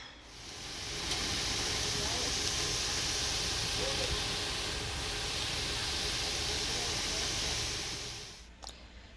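Vegetables frying in a pan for a Mediterranean couscous dish, a steady loud sizzle and hiss held for several seconds before tapering off with a faint clatter at the end.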